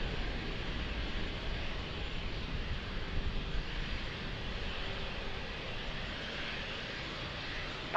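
At Lisbon Airport, a fixed-wing airliner takes off from runway 02, heard as a steady, broad roar of jet engines mixed with wind, fairly constant and moderately loud throughout.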